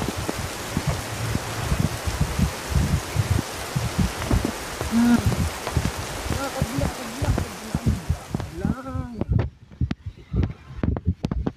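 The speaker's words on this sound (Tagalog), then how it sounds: "Medyo umina na yung ulan," Rain in Saudi Arabia patters and drips steadily on surfaces nearby, thinning out toward the end into scattered individual drops.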